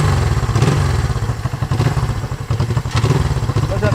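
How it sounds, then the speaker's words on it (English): A 1973 Honda CL350 motorcycle fires up on its electric starter and settles into a loud, close, pulsing idle with a steady chugging rhythm. "It has electric start, so it fires right up."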